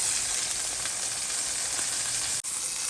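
Steady, loud sizzling of meat searing in a hot pan, a dense crackling hiss that continues without pause.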